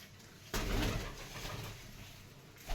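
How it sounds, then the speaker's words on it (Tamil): Various kinds of pigeons in a garden give low, rolling coos that start abruptly and continue nearby, with a short rustle near the end. "விதவிதமான புறா தான்"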